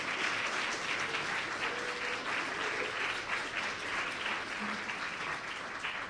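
Steady, even audience applause at a multiple system atrophy (MSA) research update talk, a continuous wash of many hands clapping at moderate distance with no voices over it.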